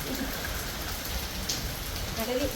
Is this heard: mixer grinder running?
no